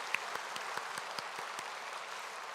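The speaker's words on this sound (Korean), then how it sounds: "우리 함께 영광의 박수와 축복의 박수를 보내겠습니다." A church congregation claps together in a steady wash of applause, with a few louder individual claps standing out at a regular beat, moderately quiet and without speech.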